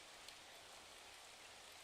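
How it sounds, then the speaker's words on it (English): Light rain patters steadily and softly, a faint, even hiss of drops falling on a surface with no other sounds. "the pitter-patter of lightly falling rain"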